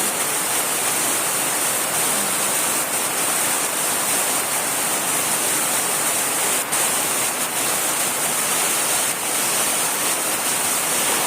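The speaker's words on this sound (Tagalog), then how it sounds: "Lakas ng ng ulan." Steady, dense downpour of heavy rain on gmelina trees, hissing continuously with no voices, loud and close throughout.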